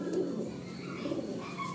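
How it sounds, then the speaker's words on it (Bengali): A Madrasi pigeon of the Fotka Kaldom type coos softly in a loft, two low rolling coos close by over a steady background murmur. "এটা ফটকা কালদম পায়রা রয়েছে"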